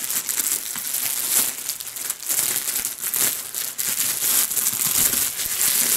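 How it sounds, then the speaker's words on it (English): Several layers of cellophane wrapped around an iceberg lettuce crinkle and crackle as a blade cuts through them, a continuous close, loud rustling with sharp crunchy bursts. "not so easy to cut, especially with this several layers of cellophane here"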